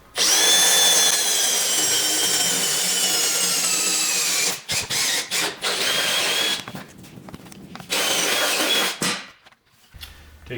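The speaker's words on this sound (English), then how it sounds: "You drill a hole through the pinch weld." Close, loud power drill runs steadily for several seconds, then sputters in short stop-start bursts as it finishes drilling a hole through the pinch weld of a 2024 Sprinter van.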